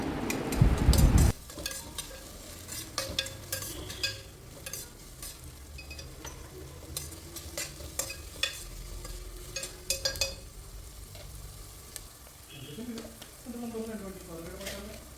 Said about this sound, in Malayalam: ആ ഉള്ളിയും കൂടി ഇതിലേക്ക് ഇട്ട് കൊടുക്കുക എന്നിട്ട് നല്ല രീതിക്ക് നമുക്കിത് വഴറ്റിയെടുക്കാം